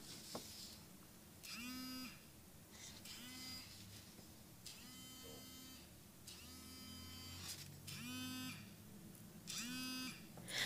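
BrailleSense 6 Mini braille notetaker vibrating to indicate light intensity, repeated buzzing pulses of varying length separated by short pauses, faint and close in a quiet room.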